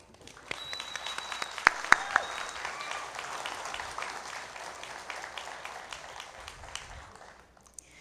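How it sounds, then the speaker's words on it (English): A crowd at an adult high school equivalency graduation ceremony applauds, a few sharp nearby claps standing out early before a broad, sustained clatter of hands that gradually thins and fades near the end. "let's give your supporters and cheerleaders a round of applause"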